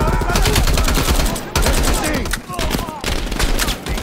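Rapid gunfire from Call of Duty: Black Ops Cold War, dense bursts of automatic shots crackling almost without pause, loud and close, with brief gaps between volleys.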